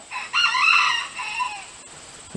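A young rooster crows once, close and loud, its call drawn out and slightly ragged, with faint background noise.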